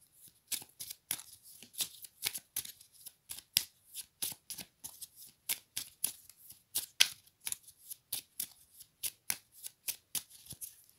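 Tarot cards are shuffled and cut by hand: a long run of crisp, rapid riffling snaps in a steady rhythm, close and fairly quiet, with no talking.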